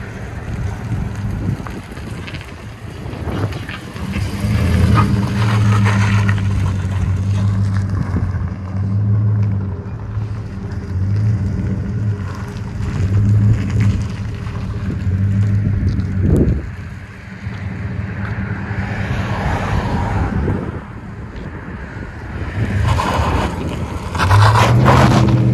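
A 2007 Chevy Silverado fitted with a Flowmaster 40 series exhaust rumbles loudly and steadily for most of the stretch, with deep low burble, brief dips and a short drop near the middle before the revving returns.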